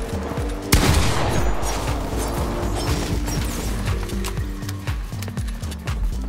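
Fortnite gunfire crackles in rapid, sustained volleys of overlapping shots, loud and close, with a sharp burst near the start and steady firing thereafter.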